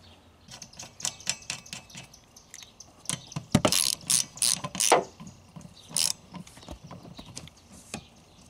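A hand ratchet tightens the nuts on a car wiper arm on an Escape, giving rapid, close clicking in short bursts with brief pauses between strokes.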